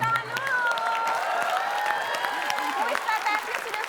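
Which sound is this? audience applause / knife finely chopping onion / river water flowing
audience applause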